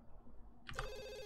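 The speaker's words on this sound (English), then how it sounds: "Oh no, a phone call!" A telephone in The Sims 2 begins ringing after a quiet stretch, a bright electronic ring that starts abruptly and sustains at moderate volume.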